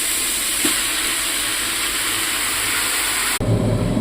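Washed gongura leaves drop into cabbage frying in a pan, setting off a loud, steady sizzle and hiss that carries on unbroken and then shifts abruptly near the end.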